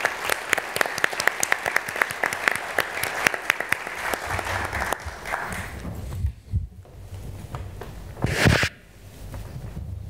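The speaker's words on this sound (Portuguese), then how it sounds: "pedir uma salva de palmas para o doutor Eduardo Mangi" An audience at a Brazilian conference session applauds a newly introduced speaker, with sharp individual claps ringing out over several seconds. The clapping then thins into scattered claps, a brief thump and a louder burst of noise.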